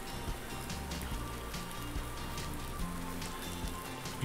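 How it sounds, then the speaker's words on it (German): Steady rain in Farming Simulator 19 patters on a surface, a continuous dense hiss of drops with faint low rumbling underneath, soft and unbroken throughout. "Regen."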